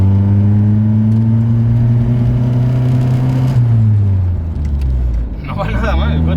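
Simca 8 car engine revs in second gear from inside the cabin, a loud steady drone that rises slightly in pitch, then drops and settles, with someone talking over it.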